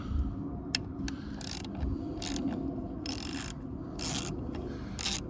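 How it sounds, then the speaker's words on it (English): Wrench or ratchet work on screws holding a car alternator in a tight engine bay during a one-wire alternator conversion, giving repeated short ratcheting clicks and bursts close by, with no talk. "Okay, I have to take these 3 screws out."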